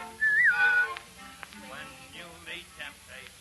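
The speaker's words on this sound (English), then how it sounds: "give a little whistle" A short, clear melodic whistle rises and falls near the start, followed by a person talking; the whistling is close and prominent before the speech takes over, part of a Pinocchio stage performance.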